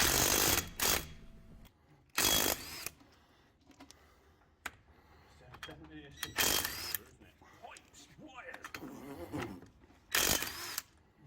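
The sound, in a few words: removing a car wheel with tools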